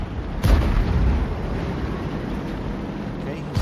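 A tank cannon fires in a World of Tanks match with the T92 HMC self-propelled artillery, a sudden loud boom at the start that rolls into a long rumbling decay under wind-like noise, with a second thump at the end.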